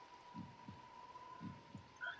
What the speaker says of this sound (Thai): ได้ยินเสียงหัวใจมาแล้ว